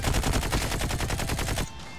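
Rapid automatic fire from the KN rifle in Call of Duty Mobile, a loud, tightly spaced burst of shots lasting about a second and a half before cutting off abruptly.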